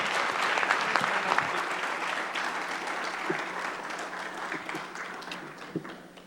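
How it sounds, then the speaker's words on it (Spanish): An audience at an energy security forum applauds with sustained clapping that gradually fades, moderately loud in the hall. "Un aplauso fuerte para él."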